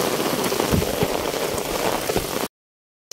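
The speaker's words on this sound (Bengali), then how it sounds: "আর বৃষ্টি দেখো কেমন হচ্ছে বৃষ্টি" Heavy rain pours down steadily in a dense, continuous hiss of drops drumming on surfaces, loud and close, then it cuts to silence near the end.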